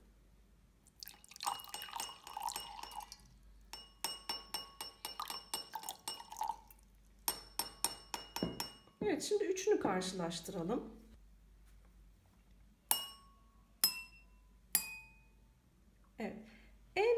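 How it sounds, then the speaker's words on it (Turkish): Drinking glasses holding different amounts of water are struck in turn, giving bright ringing clinks of varying pitch, some in quick runs and some as single spaced tones, with a person talking between strikes. "az su koyduğumuz bardak en ince sese sahip. Diğeri biraz daha kalın ve en çok su koyduğumuz bardak en kalın sese sahip oldu."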